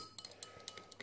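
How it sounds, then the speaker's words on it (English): A spoon stirs a Dutch MRE combat ration meal inside its pouch or tin, giving a run of soft, close clinks and scrapes at an irregular rhythm with no talking. "So let's stir it around a little bit."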